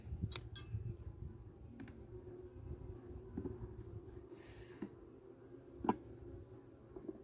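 A faint, low buzzing hum of a small honeybee colony inside a hive, with occasional small clicks and knocks nearby.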